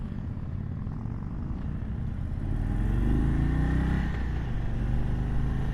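Indian Chief Darkhorse 116 motorcycle, a 2022 model on a demo ride, its engine a steady low rumble that swells into a louder, rising drone partway through, with constant road and wind noise throughout.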